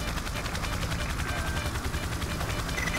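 Rapid video-game gunfire crackles steadily throughout, a dense stream of automatic shots from a firefight between armed men and scientists, moderately loud with no clear speech over it.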